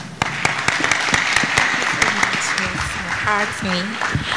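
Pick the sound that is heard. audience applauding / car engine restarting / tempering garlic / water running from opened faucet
audience applauding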